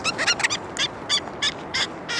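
Wild birds calling repeatedly while being hand-fed along the Great Ocean Road, a series of loud, close, bursty gobbling calls in quick succession with no talking.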